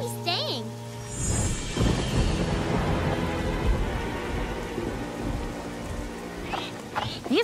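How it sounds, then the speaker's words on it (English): Steady rain with rumbling thunder in a children's cartoon, a continuous wash of downpour throughout with heavier bursts, while characters talk and react over it. "We'll just have to wait the rain out."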